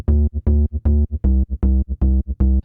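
Fast techno bass with plucky top and deep sub layers combined, punchy low notes pounding in a quick repeating pattern, loud and dry with no other sounds.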